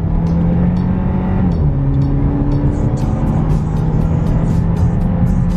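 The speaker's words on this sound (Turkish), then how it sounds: "Bastım, hafif bastım. Patinaj çekiyoruz şu anda." A car fitted with a DTE PedalBox pulls away hard with wheelspin, its engine a loud, close, steady drone that rises slightly in pitch, with faint chirps from the tyres.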